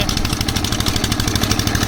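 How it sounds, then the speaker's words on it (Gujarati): A borewell boring machine running at speed beside a well in Rajkot, giving a steady, loud, close mechanical engine drone with a fast pulsing rhythm throughout. "સ્પીડમાં મશીન ચાલી રહ્યું છે."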